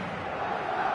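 Stadium crowd noise from a football video game, a steady dense roar of massed voices at match day, fairly faint and continuous for a brief moment.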